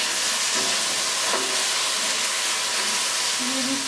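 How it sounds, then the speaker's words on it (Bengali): Bitter gourd fries in a pan before pumpkin goes in, giving a loud, steady sizzle and hiss throughout, with occasional stirring scrapes and a faint voice near the end. "উচ্ছেটা ভাজা ভাজা করে নিয়ে দিয়ে দিতে হবে কুমড়োগুলো।"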